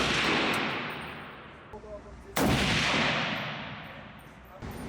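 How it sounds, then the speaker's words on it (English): Two loud rifle shots boom close by at an indoor range, each with a long echoing tail, from a Century Arms MB47 AK-style rifle or an M70. Brief murmurs sound between them. "That's 10 shots."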